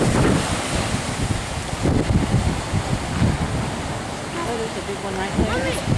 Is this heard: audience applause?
no